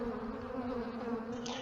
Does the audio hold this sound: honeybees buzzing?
yes